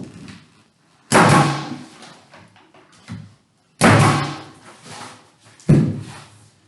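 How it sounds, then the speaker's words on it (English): Nails are driven through shims into a door frame as a door is installed, giving three heavy, loud blows with quieter taps and knocks between them. "So I'm going to get some nails in there."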